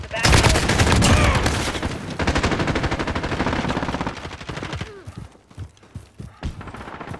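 Rapid automatic gunfire and scattered shots from the video game Call of Duty: Modern Warfare crackle in dense bursts, then thin out into sporadic pops and thuds.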